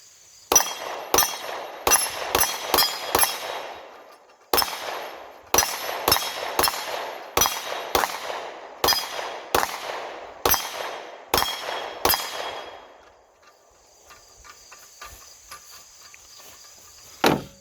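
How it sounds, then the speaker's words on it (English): Glock 19 Gen 5 MOS pistol fired at about 10 yards at a budget steel plate rack, with a long series of sharp shots and ringing metallic clangs at a steady pace, followed by a quieter stretch with a high insect-like hum. "Glock 19 in action."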